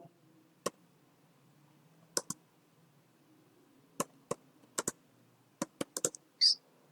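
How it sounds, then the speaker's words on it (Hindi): Computer keys are struck in sparse, scattered clicks, sometimes singly and sometimes in quick pairs or bursts. The typing is close and crisp against a quiet room hum, and a brief brighter tone sounds at the very end. "तो मैंने यहाँ पर कुछ टाइप किया है।"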